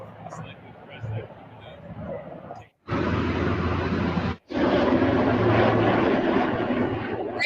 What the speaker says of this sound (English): Helicopters flying over the reflecting pool.